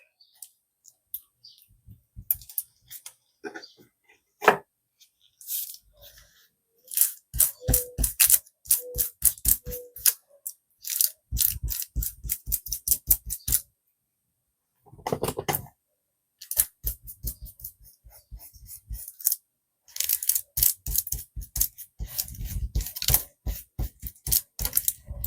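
Scissors snip through a sheet of dichroic film in many quick crisp clicking cuts, close and fairly loud, coming in irregular bursts separated by short pauses.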